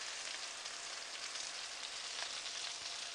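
King fish coated in masala fries in oil in a shallow pan, giving a steady, dense, close sizzle that runs on alone without a break.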